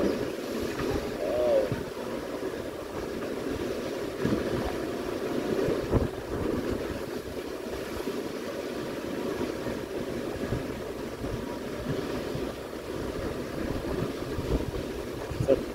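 Sea waves wash alongside a large Royal Caribbean cruise ship, heard as a continuous rushing of water over a low steady engine rumble. Wind buffets the microphone throughout, and a voice is faintly present.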